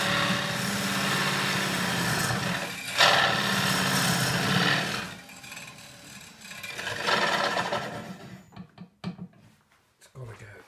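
Hand tool scraping and rasping as it widens a kerf in a short box elder log, with rough rubbing bursts that fade into scattered knocks and handling noises at the end.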